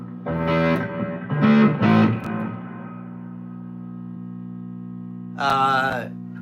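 An electric guitar played through a fuzz pedal with the fuzz turned all the way up: a few thick, buzzing chord stabs that ring into a long droning sustain, then one more gritty burst near the end.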